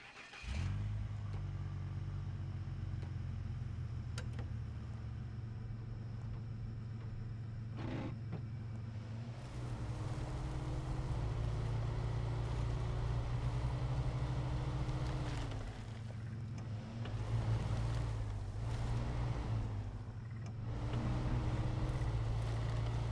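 Heavy off-road truck in the SnowRunner video game ploughing through deep water, a steady low engine drone with sloshing and splashing, revving and surging in loud waves throughout, with no talk.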